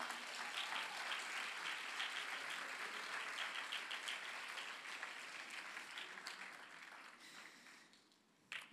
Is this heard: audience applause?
yes